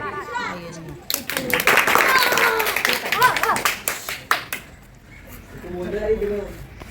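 An audience at an Independence Day celebration gives a round of applause for a student speaker, a sharp spell of clapping that rises after a spoken introduction and fades as talking resumes.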